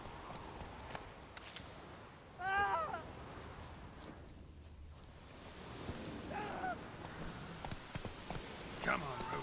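Horse hooves clip-clop at a steady walk on the road in The Witcher 3 as the horse Roach moves along, quiet and under wind, with brief voices and a horse snort mixed in.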